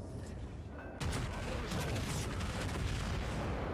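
A heavy booming 400 mm battleship salvo in World of Warships erupts about a second in, followed by sustained rumbling and scattered concussive blasts over a dense, noisy background.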